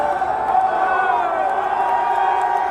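A packed stadium crowd at the Waste Management Open golf tournament roars continuously, a loud, dense mass of cheering and chanting voices with occasional whoops and claps poking through.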